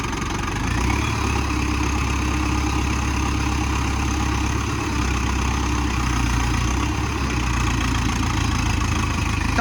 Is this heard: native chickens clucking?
no